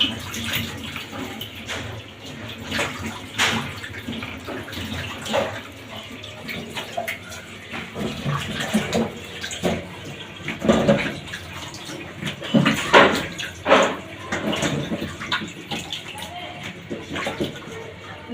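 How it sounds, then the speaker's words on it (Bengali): Cut mango pieces are washed in water, with splashing and sloshing in uneven bursts close by, a dog barking now and then in the background. "এখন আমগুলো আমি একটু ধুয়ে নেব।"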